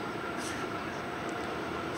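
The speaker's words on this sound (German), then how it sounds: "Da hinten kommt gerade ein guter Zug." A train of flat wagons rolls past at a distance, giving a steady broadband rumble and rush that holds level throughout with no voices.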